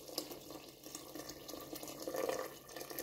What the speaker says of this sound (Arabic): غنزيد فيها شويه الماء طيب